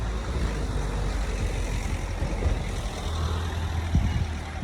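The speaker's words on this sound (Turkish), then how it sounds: "bir saniye araba geçiyor" A car passes by with a low engine rumble and tyre noise, holding steady and close with slight swells, and no voices over it.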